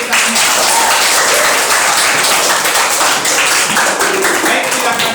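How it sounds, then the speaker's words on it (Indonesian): Classroom audience applause during an Indonesian school lesson, a steady dense wash of many hands clapping close by and filling the whole few seconds without a break. "Terima kasih, tepuk tangan."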